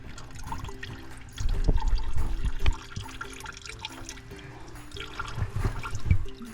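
Fluid from a 1987 Jeep Wrangler drains into a bucket with a continuous splashing trickle and scattered drips, swelling louder in a couple of spells.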